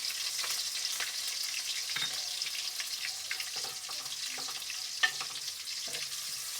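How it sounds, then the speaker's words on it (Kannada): Green chillies and garlic frying in hot oil, a steady close sizzle with occasional crackles and stirring scrapes. "ಎಣ್ಣೆ ಕಾಯ್ದಿದೆ, ಹಸಿಮೆಣಸಿನ್ಕಾಯಿ ಹಾಕೋಣ, ಬೆಳ್ಳುಳ್ಳಿ ಹಾಕೋಣ."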